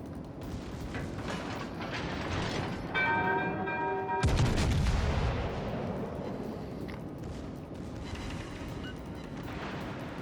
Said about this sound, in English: Secondary gun should be open fire now.